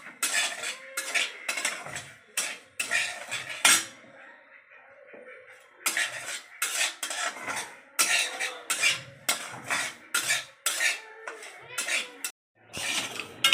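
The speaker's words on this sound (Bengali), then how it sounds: "সুজিটা একটু লাল লাল করে ভেজে নেব" Semolina being stirred and roasted in a hot wok, a spatula scraping and clinking against the metal in a steady, busy rhythm, close and fairly loud, with a short quieter pause partway through.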